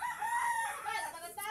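A rooster crows among chickens, one drawn-out cock-a-doodle-doo that is fairly close and moderately loud with a slight tail of clucking.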